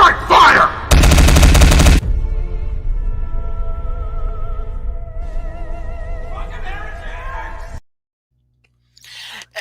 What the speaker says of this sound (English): They're just running around shooting each other down there.